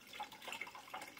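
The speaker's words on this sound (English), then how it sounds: "Will it spill all over the place when I pour into that little filter they have on top?" Water poured by hand into the small filter on top of a Kapas countertop dishwasher, a faint, close splashing trickle with a few soft drips over about a second.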